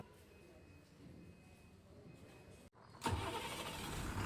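A KSRTC bus engine runs at the Dandeli bus stand, a steady low rumble that drops out briefly, then returns louder and closer amid station background noise.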